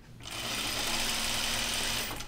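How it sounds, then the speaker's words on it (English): A sewing machine runs steadily as it stitches curves in fabric, giving one continuous close whir for about two seconds with no talk. "When I sew curves, like one thing to think about is that this is your pivot point over here."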